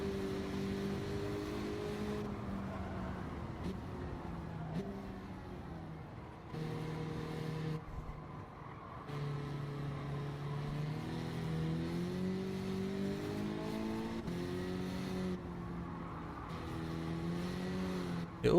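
A race car engine in Gran Turismo 7 drones steadily, its pitch rising and falling through gear changes and revs, loud and continuous with no talk.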